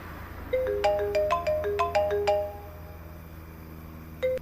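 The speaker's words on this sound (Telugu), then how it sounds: "ఫోన్ మోగుతుంది చూడరా." A phone ringtone plays a quick chiming melody of bright tones for about two seconds, then falls silent before one more short tone sounds.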